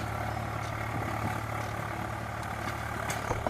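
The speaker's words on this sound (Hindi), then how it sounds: "और ये देखिए यहाँ पर दूसरा ट्रैक्टर है।" A tractor engine runs steadily in hilly countryside, a continuous low idling rumble at moderate distance with a few faint clicks and knocks, no talking.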